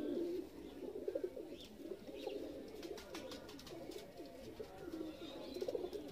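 Pigeons cooing in a loft at Khalifa Neta's in R.S. Pura, a steady layered chorus of low throaty coos close by with a few faint higher chirps.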